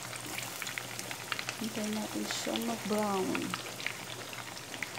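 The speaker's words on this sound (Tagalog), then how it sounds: "So, guys, prito natin siya dyan." Chicken pieces sizzle in hot oil for maqluba, a soft, steady crackle of frying that runs throughout as someone speaks briefly over the pan.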